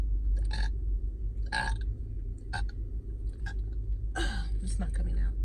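Several short, throaty burps after drinking berry soda come in separate bursts a second or so apart, close to the microphone, against a low background rumble.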